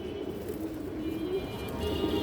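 A stone-eyed pigeon of an old bloodline, a running flier with a painted breast, coos in low, steady murmurs close by, with a faint background hum and no talk.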